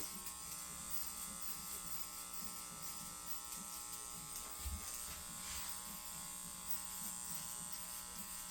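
Electric hair clippers buzz steadily and closely throughout a bald fade haircut, a continuous hum with slight shifts as they move through hair.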